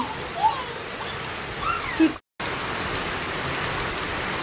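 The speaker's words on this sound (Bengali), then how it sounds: "কি বৃষ্টিটা পড়তাছে" Steady heavy rain falling outdoors, a continuous dense hiss throughout with a brief dropout in the middle and faint voices in the background.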